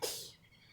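A single short, sharp sneeze bursts out at the start, then fades into quiet outdoor garden ambience.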